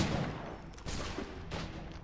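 Gunfire from the video game Assassin's Creed III Remastered: a few sharp, loud shots land in separate bursts over a rumbling battle background, with no talking.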